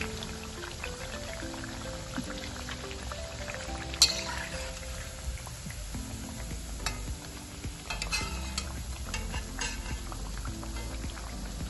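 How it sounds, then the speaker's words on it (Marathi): Kothimbir wadi, coriander fritters made without gram flour, fry steadily in hot oil with a continuous sizzle and bubbling, broken by occasional clinks of a utensil against the pan, close by and with no talk. "अगदी व्यवस्थित खमंग कुरकुरीत अशी आपण कोथिंबीर वडी तळून घ्यायची आहे."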